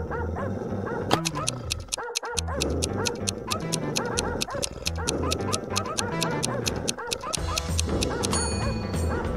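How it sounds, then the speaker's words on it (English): Pack of dogs barking out of control, dense rapid overlapping barks and yips with whimpers, loud and continuous with a couple of brief gaps. "Suddenly, the dogs went out of control."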